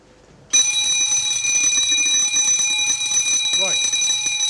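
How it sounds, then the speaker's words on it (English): A Kentec Sigma XT fire alarm system bell starts abruptly and rings loud and continuous with a shrill metallic tone, while a person speaks over it. "It's going to make some noise. The bell is going to be activated as well."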